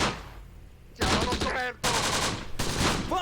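Italian machine gun fire in the World War II video game Close Combat: The Bloody First, loud rapid bursts separated by short gaps of quieter battlefield noise, with no speech.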